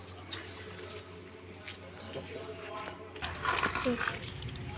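Water splashes onto a potted plant in hot weather, a soft pour that swells near the end, with faint speech-like murmuring and household noise in the background.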